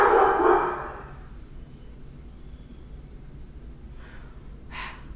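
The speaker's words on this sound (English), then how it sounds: "please ignore the background barking, because I don't even know what he's barking at" A dog barks in the background of a podcast recording: one loud, sharp bark at the start, then a couple of fainter, shorter yelps later over a quiet room hum.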